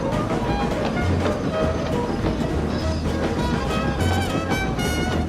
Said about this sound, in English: James was pulling a goods train along the main line.